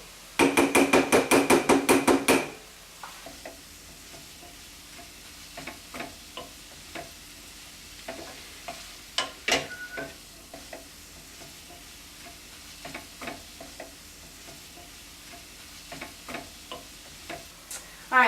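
Tomato sauce with spicy chorizo simmers in a pan and is stirred: a fast burst of rhythmic scraping strokes at the start, then quiet bubbling and scattered soft taps and clicks, with no talking.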